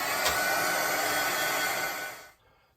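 Hair dryer blowing steadily over white paint splatters on an art journal page, a loud continuous whoosh for about two seconds before it cuts off into quiet.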